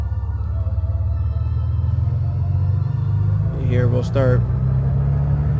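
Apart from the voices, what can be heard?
Carenado M20R Ovation aircraft engine taxiing, Microsoft Flight Simulator 2020 video game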